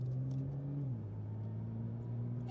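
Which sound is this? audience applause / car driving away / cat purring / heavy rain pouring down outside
car driving away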